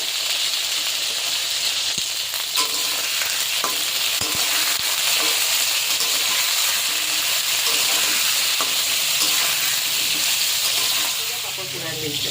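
Pointed gourd (potol) fries in mustard oil in a kadai with a little salt added, producing a loud, continuous hissing sizzle up close, dotted with occasional crackles and stirring clicks.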